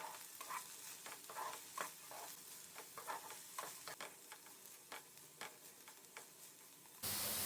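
Chopped onion sizzles with lightly fried potatoes in a pan for a Bengali corica fish curry, a steady close frying hiss broken by repeated spatula stirs and scrapes, rising to a louder burst at the very end.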